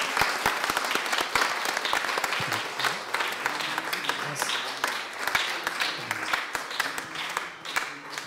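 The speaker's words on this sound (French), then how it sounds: "Applaudissons notre Seigneur" A church congregation gives sustained applause, dense clapping from many hands filling the space at an even level, with some voices mixed in beneath it.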